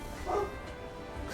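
A dog gives a single short, excited bark, fairly close, standing out briefly against a steady background hum.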